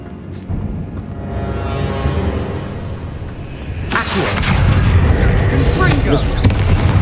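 Confringo and Bombarda spell blasts from Hogwarts Legacy boom repeatedly over a rumbling battle, one sharp hit near the start and a louder cluster of blasts in the second half.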